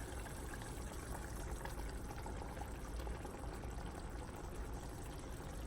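A quiet, steady liquid sound of beaten eggs being poured into a pot of spinach palava sauce, with a soft bubbling simmer underneath.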